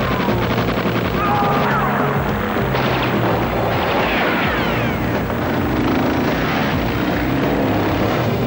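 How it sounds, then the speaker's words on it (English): An airplane flies into shot during a film shoot for GoldenEye, its loud droning propeller engine roaring steadily and filling the whole stretch with no talk. "Now as the plane comes into shot."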